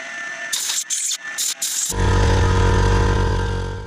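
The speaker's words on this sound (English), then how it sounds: "that was great timing by the compressor" Several short hissing air blasts in a woodturning workshop give way to an air compressor kicking on with a loud, steady motor drone and rattle that continues to the end.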